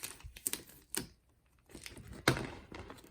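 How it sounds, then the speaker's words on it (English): Masking tape being peeled off a genuine leather sheet with chunky glitter after Cricut cutting: several short, crackly ripping bursts with quiet pauses between, fairly close and alone. "we'll pull this tape off of here. I like to just get all the tape off"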